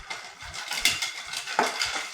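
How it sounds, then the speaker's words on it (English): Stirring an Old Fashioned cocktail in a mixing glass, a close run of light clinks and rattles of ice and bar spoon against glass, quick and irregular, with no voices. "So now we're just gonna stir."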